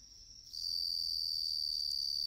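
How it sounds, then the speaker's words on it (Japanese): A suzumushi bell cricket rings on an autumn night. Its high, pure chirping trill starts softly, then swells within half a second into a loud, steady ringing that carries clear overtones and continues without pause. "スズムシ、リンリン。"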